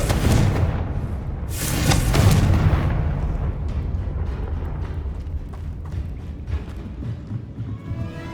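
The Confringo fire spell in the video game Hogwarts Legacy sets off a deep, rumbling blast. A sharp crackling burst follows, then a long, fading boom that trails off.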